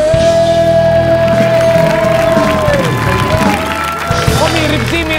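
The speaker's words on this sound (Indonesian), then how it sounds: "Lebih semangat lagi, tepuk tangannya lebih kenceng lagi." A studio audience at an Indonesian TV talk show claps and cheers loudly and steadily throughout, with voices and tonal music-like sounds running over the crowd noise.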